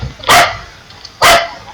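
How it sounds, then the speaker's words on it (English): A dog barks twice indoors, two loud, sharp, close barks separated by about a second of quiet. "Shout out for my dog that barking."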